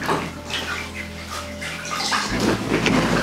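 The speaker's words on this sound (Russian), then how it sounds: "Теперь тщательно смываем." Water splashes and runs in rinsing a client's face during a skincare facial treatment, a continuous close wet rushing with a brief dip partway through, and no voices.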